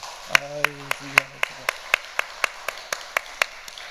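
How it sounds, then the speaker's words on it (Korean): A church congregation claps together in a steady, evenly spaced rhythm, about a dozen crisp, fairly close claps in a row, with a voice speaking briefly over the first few. "우리 한번 박수 한번 치겠습니다"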